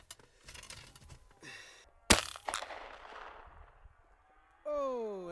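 A black powder gun fires with a sharp, loud crack, followed by a short rumbling decay amid scattered handling noises, then a sustained tonal sweep toward the end.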